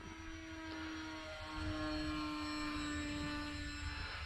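A small pusher-propeller RC plane, a Dynam Hawksky V2, drones with a steady, buzzing whine that holds a constant pitch, fairly distant and continuous throughout.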